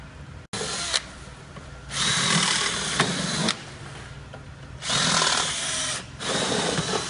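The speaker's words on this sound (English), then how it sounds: "we now proceed to drill out with a 5mm drill bit" A power drill with a 5mm bit bores out rivets holding a sail track to a tent bed base, whining in loud bursts of a second or two separated by short pauses, close to the microphone with no speech.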